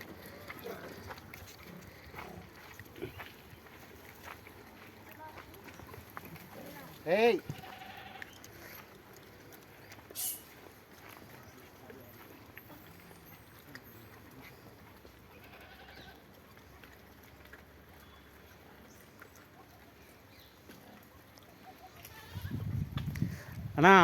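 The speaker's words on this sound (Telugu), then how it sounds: "అన్నా మేక వచ్చిందన్నా" Goats bleat faintly a few times in a quiet rural setting, with soft rustling and distant voices in the background.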